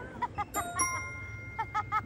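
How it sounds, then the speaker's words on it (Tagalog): A doorbell chimes in two short bursts of bright ringing tones, separated by a brief pause, fairly close. "Ito yung doorbell."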